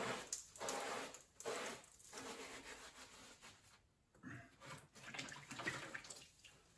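A sponge rubbed over fresh tile grout on a utility sink backsplash, wetted with clean water from a bucket: soft, repeated scrubbing strokes with wet swishes, close but fairly quiet, with brief pauses between passes.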